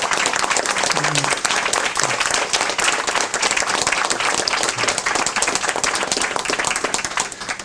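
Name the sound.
audience applause at a seminar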